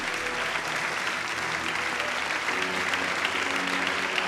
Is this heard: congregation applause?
yes